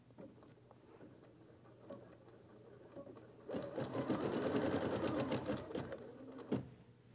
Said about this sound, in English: we'll bring it back to the embroidery machine